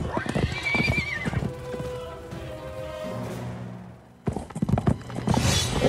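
A unicorn in a South Park role-playing video game whinnies loudly, then hooves clip-clop in a steady gallop beneath a sustained neigh, ending with another burst of clattering hoofbeats, with no talk.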